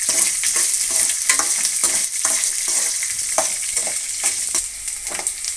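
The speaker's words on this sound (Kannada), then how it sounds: "ಈರುಳ್ಳಿ ಸಣ್ಣ ಸಣ್ಣದಾಗಿ ಹಚ್ಚಿಟ್ಕೊಂಡಿದ್ದೀನಿ, ಅದನ್ನು ಹಾಕ್ತಾಯಿದ್ದೀನಿ. ಅದೊಂದು ಸ್ವಲ್ಪ ಫ್ರೈ ಆಗಲಿ" Finely chopped onions fry in a pan with oil, a close, steady sizzle broken by repeated scraping and stirring strokes, with no voices over it.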